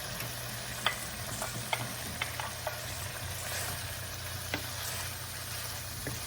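Vegetables sizzle quietly in a pan beside boiling pasta, with scattered clicks and scrapes of stirring over a low steady hum.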